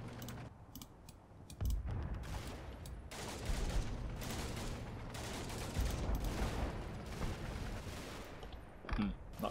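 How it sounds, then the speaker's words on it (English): Sustained suppressive gunfire in the World War II strategy game Combat Mission, with rattling bursts and scattered sharp shots layered over a constant battle din, fairly faint, with no voices. "plenty of suppressive fire coming down over on the Tommies over here"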